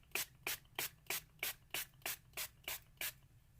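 A hand-pump spray bottle mists water onto a craft surface, about ten short, evenly spaced hissing bursts in a steady rhythm, close and clear with no talking.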